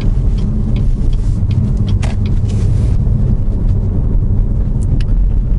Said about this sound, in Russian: вот сейчас вот слышен шум от арок